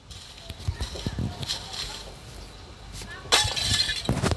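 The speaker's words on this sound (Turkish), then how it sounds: "Kır camı." Glass breaks in the video game Hello Neighbor, a sudden bright crash late in the clip over a background of game noise and scattered knocks.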